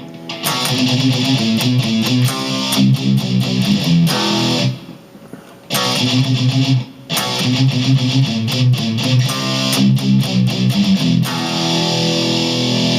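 Heavy distorted electric guitar chugging out palm-muted power chords in a steady, loud riff, with two short breaks where the playing drops out.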